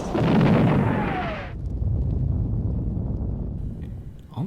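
Pyrotechnic blasts go off in a live-action Thomas and Friends children's episode. A loud boom is followed by a roaring rumble and a short whistling streak, then a long low rumble fades out.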